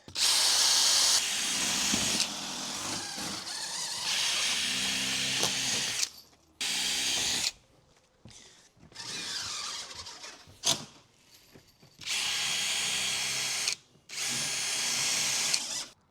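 A power drill drives bolts down onto silicone to fix a ring beam, in loud close bursts of whirring and ratcheting separated by brief pauses.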